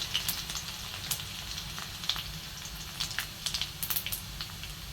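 Garlic, cumin and mustard seeds crackle in hot oil while a dill vegetable dish is cooked, a faint steady sizzle with scattered small pops, no talking.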